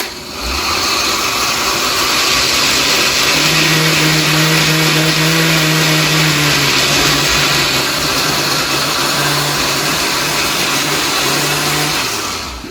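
A blender whirs continuously for several seconds, loud and close, as it purees red hot pepper sauce. Its motor pitch steps down and levels off partway through, and the whine ends as it shuts off.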